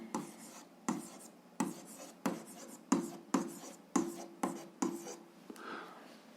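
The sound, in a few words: writing out a math solution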